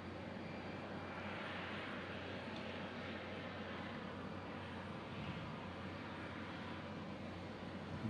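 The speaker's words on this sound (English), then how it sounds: "This is a Max 8, 737 Max 8." A Boeing 737 MAX 8 landing at Omaha Eppley Field, its engines making a broad, steady roar that holds at an even level throughout, heard from a distance at the airfield.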